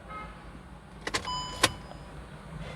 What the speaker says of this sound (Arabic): وتم عمل نظام السنتر لوك بشكل كامل